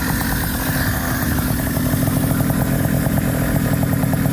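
A small two-stroke Tomos moped engine runs steadily up close, buzzing loudly at a low, even rev with a rattly, continuous drone.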